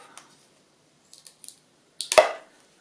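A plastic straw is cut with scissors in a single crisp snip near the end, preceded by a few faint, light clicks of handling in an otherwise quiet room.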